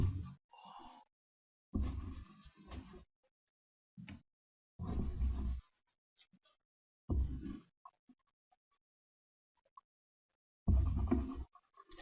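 Pencil marks on a drawing are rubbed out in short, scratchy bursts of erasing separated by silent pauses, close and fairly quiet.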